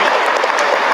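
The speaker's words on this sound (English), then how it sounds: "Let's have another round of applause for all of our finalists." A brief, loud burst of applause for finalists at a high school senior honors night, dense clapping from a large audience filling the moment.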